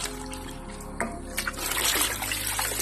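Pork intestines for dinuguan being rinsed in a sink, with running water splashing and trickling steadily close by, the flow growing heavier toward the end, no talking.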